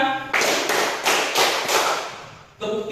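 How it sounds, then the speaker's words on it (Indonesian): A classroom of students claps hands together in a rhythmic clapping game, with about half a dozen sharp, fairly close group claps in quick succession, followed by a brief pause. "tepuk 1, tepuk 2"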